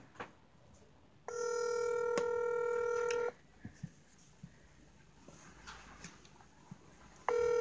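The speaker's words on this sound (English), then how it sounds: "Answer the phone." A landline telephone rings with one sustained electronic tone burst, loud and close, followed by quiet room noise and the start of another ring at the end.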